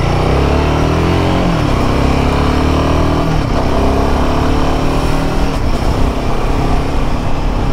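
Royal Enfield Himalayan 450 single-cylinder motorcycle engine under way, a loud steady drone whose pitch rises and falls as the rider works through the revs, with continuous road and wind roar and no talk.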